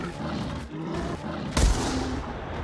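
A single sharp gunshot cracks out in theHunter Classic during a werewolf hunt event, loud and close, standing out over a steady background ambience.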